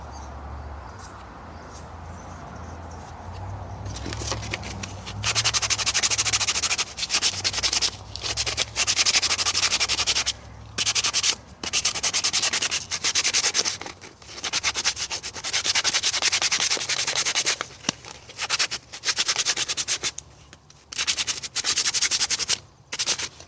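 Sandpaper rubs steadily over a clay dragon egg, smoothing it before painting, in loud, close, continuous scratchy strokes with brief pauses between passes after a quieter start.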